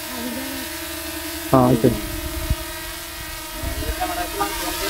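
A DJI Mini 4K drone lands outdoors, its steady high-pitched propeller whine running the whole time, while people talk briefly nearby.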